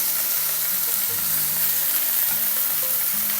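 Beef rolls fry in a cast iron pan with a steady, close sizzle throughout, with soft scattered pops and faint crackles and no talking.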